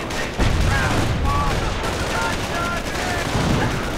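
Rapid bursts of rifle and machine-gun fire crackle continuously in the video game Company of Heroes, dense overlapping shots with faint radio-style voice callouts beneath.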